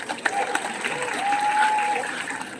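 An audience applauds at the closing ceremony of the 44th Bali Arts Festival in 2022, a dense, steady patter of clapping that holds evenly throughout, with a faint tonal line mixed beneath.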